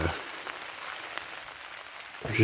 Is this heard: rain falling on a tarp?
yes